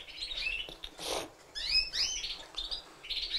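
A Yorkshire canary, an English-origin bred song canary, sings bright rapid chirps and warbling trills in short bursts, close and clear with no voices.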